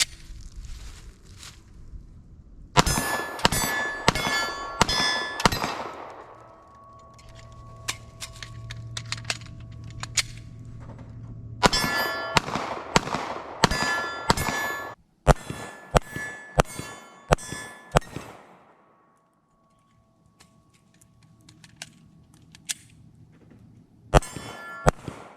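Pistol shots during weak-hand self-defense practice, each followed by a ringing clang off steel targets, come in quick bursts of several rounds separated by quiet pauses, with no talking.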